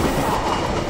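An EMU local train runs along the rails, with a loud, continuous rumble and rhythmic clickety-clack of wheels over track joints, close and steady.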